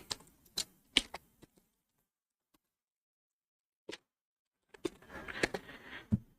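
Typing on a computer keyboard: two short bursts of quick, light key clicks separated by a long quiet gap, fairly faint and with no voices.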